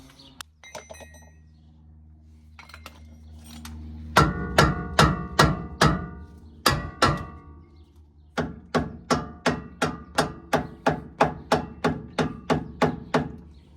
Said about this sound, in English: We're going to use a rubber mallet, hit it here and here, maybe even here.